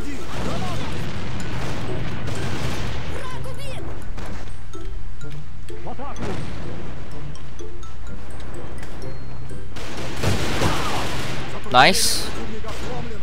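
Bomb explosions and gunfire in the online shooter A.V.A play on a desert map as loud, dense bursts and booms, with a player talking over the action.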